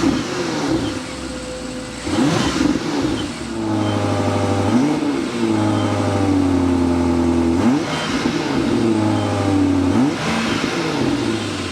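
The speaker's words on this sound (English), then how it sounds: "start them up so you can hear the exhaust notes" A 2025 BMW X5 or X7 M60i with the S68 V8 starts with a loud bark, then settles into a deep idle broken by several sharp revs through the exhaust, close and alone without talk.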